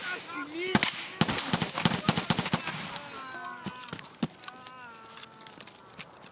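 Bursts of automatic gunfire and single sharp shots crack through an Escape From Tarkov match, loud and close in rapid clusters early on, then sparser scattered shots, with someone talking over and between them.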